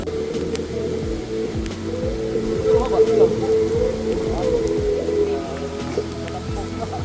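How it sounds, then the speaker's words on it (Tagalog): Steady rain patters on surfaces close by, a continuous wash with scattered drop hits, while a low hum runs underneath. "si San Juan naman ang nagsaboy ng blessing na ulan na to"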